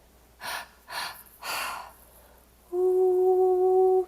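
Three deep, breathy inhalations or exhalations in slow succession during a guided breathwork meditation, each swelling and fading, followed by a sustained tonal hum or singing bowl-like drone that rings steadily to the end.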